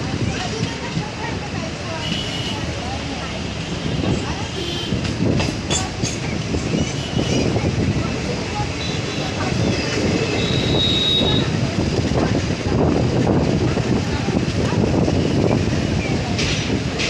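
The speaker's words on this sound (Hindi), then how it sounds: "परभनी जंक्शन से निकलने के बाद अभी हमारी ट्रेन स्किप करने वाली थी पेड़गांव रेलवे स्टेशन को" A train runs on rails after leaving Parbhani Junction on the Parbhani–Jalna line, with a continuous close rumble, rhythmic clatter and squealing wheels throughout, and a voice talking over it.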